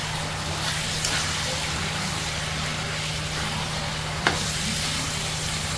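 Chicken curry with onion, salt and colour powder frying in a pan, a steady low sizzle running throughout with a faint clink near the end.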